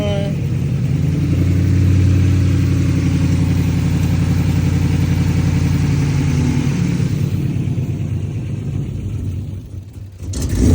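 A Ford Crown Victoria running with a newly installed 160-degree thermostat and new axle idles loudly up close, a steady low engine drone that eases slightly after a few seconds, then dips and surges near the end.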